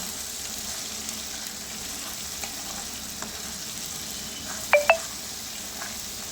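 Spice paste sautéing in hot oil as it is cooked down before meat goes in, a continuous soft sizzle with faint ticks and two sharp utensil clinks partway through.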